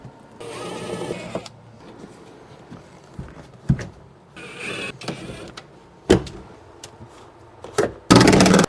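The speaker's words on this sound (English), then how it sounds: "I sucked out all the chocolate milk with the extractor vacuum" An extractor vacuum sucks chocolate milk out of a car seat in a Volkswagen GTI, giving short bursts of harsh, hissing suction that start and stop, with clicks and knocks between them.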